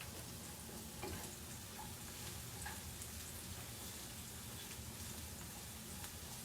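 Seasoned meat and onions fry in a pan while being stirred for Cameroonian ndole, a steady close sizzle with faint scraping clicks throughout and no talking.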